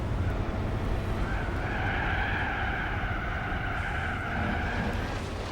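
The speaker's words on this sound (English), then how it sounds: "Oh my god, this car drifts around." A car drifting in Gran Turismo 4 gives a sustained tyre squeal over steady engine drone, the skid holding for several seconds at an even, moderate level with no talking.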